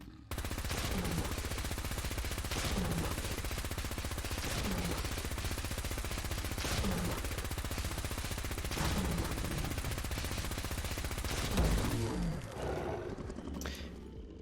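A Laser RCW rifle in Fallout 4 fires in a loud, rapid, continuous buzzing stream of shots with periodic heavier bursts, near and sustained, easing off at the end.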